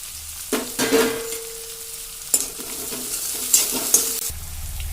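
Onions frying in oil for kaju rice, a close sizzle with scattered stirring clatters and a few sharp utensil knocks, a low hum underneath and no talk.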